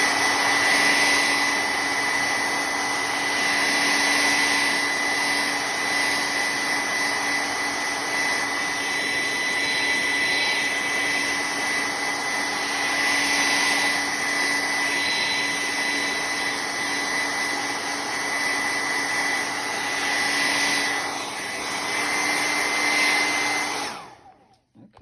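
A hair dryer blows steadily on paint on a canvas, a loud continuous whirring hum with a high whine running unbroken until it cuts off near the end.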